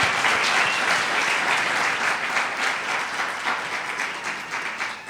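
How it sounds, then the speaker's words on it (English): A large audience at a county executive's swearing-in ceremony applauds loudly and steadily, the clapping holding strong throughout and easing only slightly toward the end. "I think we should give them all another round of applause."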